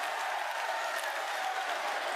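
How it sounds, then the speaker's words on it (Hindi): A large crowd at an outdoor political rally claps steadily to welcome Uttar Pradesh Chief Minister Yogi Adityanath, a dense continuous patter of applause with no clear voices over it. "एक बार जोरदार ताली बजा करके आदरणीय मुख्यमंत्री"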